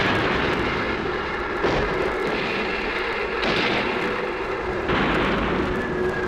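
WW2 D-Day battle effects of aerial bombing and naval artillery from battleships, cruisers and destroyers make a dense, continuous roar with repeated heavy booms every second or two, loud and unbroken.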